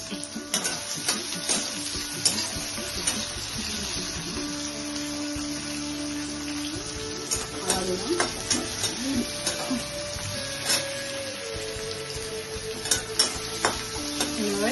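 Cashews and ginger fry in a pan alongside tomato for a red-chilli paneer curry, a steady close sizzle running throughout with scattered clinks and scrapes of stirring.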